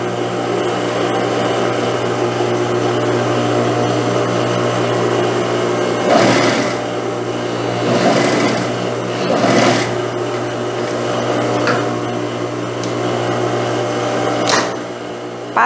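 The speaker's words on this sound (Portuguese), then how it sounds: "Venho aqui e passo também a costura de pesponto rente" Sewing machine running a topstitch close to the seam on a blouse with a gathered sleeve, a steady close whirring hum throughout with a few brief louder rattles and clicks.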